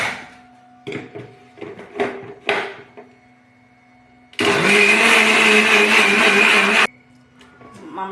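Mixer grinder blending a ragi banana shake with cashews: a loud, steady whirring grind lasting a couple of seconds, preceded and followed by brief clatters and handling knocks.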